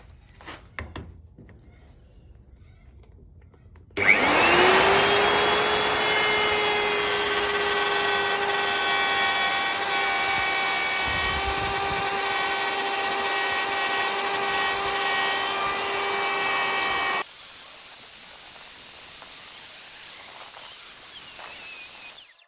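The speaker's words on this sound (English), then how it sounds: "router here, it's pretty aggressive, it's pretty big, plunge router, but it's powerful and it'll do the job" A big, powerful plunge router spins up with a sudden loud whine and holds a steady high-pitched tonal drone while cutting a stringybark wood shelf, then the pitch shifts and the motor winds down near the end.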